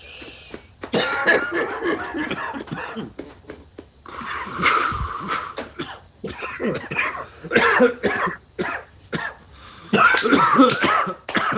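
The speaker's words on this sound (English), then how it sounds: "Cough it out. Cough it out." Repeated harsh coughing and throat clearing in bursts, close and loud, with short pauses between fits and no talking.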